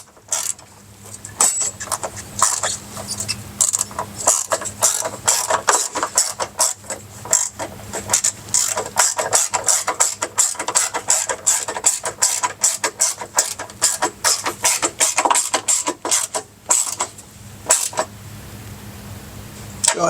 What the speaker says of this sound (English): We'll take our extended drive. This is the one that we used to loosen up the nut on that stud